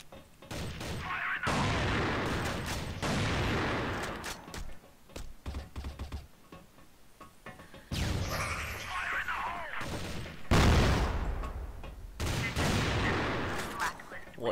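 Bursts of gunfire from a gold M4 rifle in the online shooter Crossfire, loud rapid volleys broken by short pauses, with talk over parts of the shooting.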